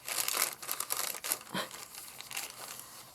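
A tea- or coffee-dyed glassine bag, once wire bound, is handled and crinkled up close in quick, papery bursts that fade to softer rustles, with no talking.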